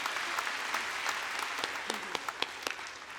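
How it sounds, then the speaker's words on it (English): Audience applause at the 21st Annual Maple Blues Awards ceremony, a steady wash of clapping from a crowd in a hall, with sharper individual claps popping out near the end. "You guys can clap now."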